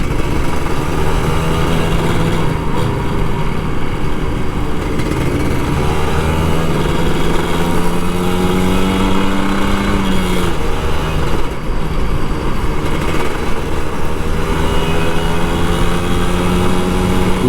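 An old Kawasaki Ninja RR 150 two-stroke motorcycle rides at night through Jakarta, its engine note droning steadily with a light throttle rise and fall under constant road and wind noise.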